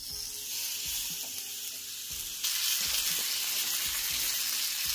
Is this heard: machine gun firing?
no